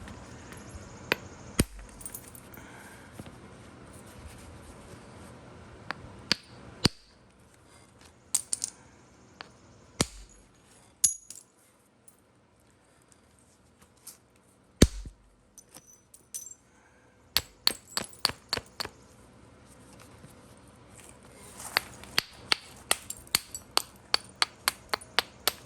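Sharp stone-on-stone strikes ring out while hornstone is flintknapped to thin a biface: scattered single hits with quiet gaps, then faster clustered tapping toward the end.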